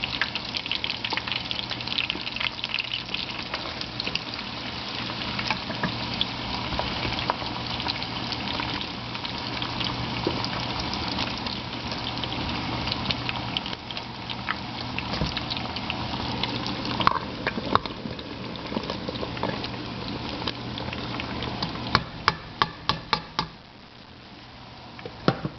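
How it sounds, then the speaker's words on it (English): Beef fat melts down into dripping in a pan. A continuous close bubbling sizzle carries on steadily, with a few sharper pops and crackles near the end. "The fact that it's going in the dripping again will help it melt down faster."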